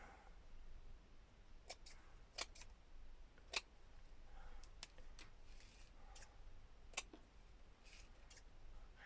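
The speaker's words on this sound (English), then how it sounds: "And I'm just going to randomly cut." Large scissors snip randomly through lace fabric, giving quiet, sharp clicks at uneven intervals over a soft background hiss.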